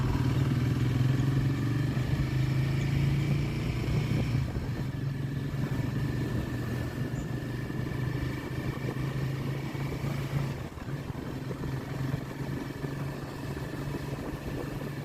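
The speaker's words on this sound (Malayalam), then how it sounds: "ഞാൻ എന്തായാലും ബൈക്ക് സ്റ്റാർട്ടാക്കി" A Royal Enfield Himalayan 450 motorcycle being ridden, a steady low engine drone mixed with wind and road rumble that holds at an even level throughout, with no voices.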